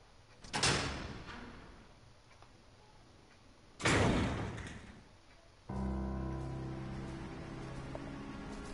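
A door opening in the survival horror game Resident Evil 0, two heavy mechanical creaking rushes a few seconds apart, then a steady low rumbling ambience takes over.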